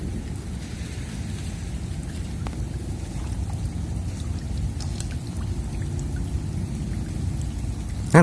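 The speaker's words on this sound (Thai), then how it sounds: "เย็นแล้วอากาศเย็นฝนตก" Steady rain pours during a stormy evening at a rural lift-net fishing spot on muddy water, a constant close hiss with a low rumble underneath and no voices.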